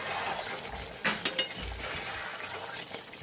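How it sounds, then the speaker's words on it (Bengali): Chicken and potato curry stirred in a pan: a quiet bed of cooking noise, broken by a short cluster of spoon clinks and scrapes against the metal. "একটু নাড়াচাড়া করে নিচ্ছি আমি"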